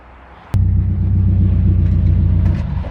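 A car starts rolling with a sudden onset of heavy low rumble that stays steady and loud, road and engine drone up a bumpy canyon road.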